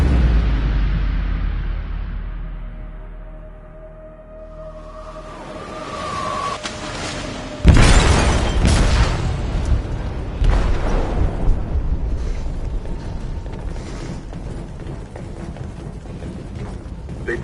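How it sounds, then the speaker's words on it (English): An explosive detonated in a ship's hold in Detroit: Become Human: a sudden heavy boom hits midway after a quiet mechanical build-up, followed by a long rumbling, clattering aftermath that slowly fades. "They detonated an explosive in the hold."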